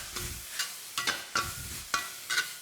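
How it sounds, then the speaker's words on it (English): A wok being deglazed with a Sichuan peppercorn and chili mix for hot and sour soup, rhythmic scraping stirs about every half second over a low sizzle, close and fairly quiet. "I'm going to kind of use all this flavour to deglaze the wok"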